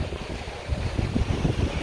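Sea waves at Caló del Moro beach on Majorca, a loud continuous wash of surf mixed with heavy wind buffeting the microphone, no distinct breaks between swells.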